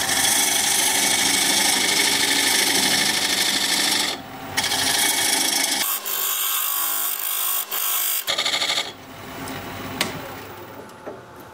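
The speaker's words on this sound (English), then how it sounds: "Now I'm going to use this diamond point tool to square up the sides of the tenon." A diamond point tool squares a tenon on spinning mesquite on a wood lathe: loud, continuous scraping and rasping over the machine's running drone, with the cut briefly changing character partway through.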